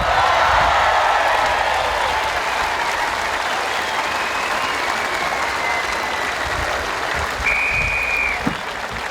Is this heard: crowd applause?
yes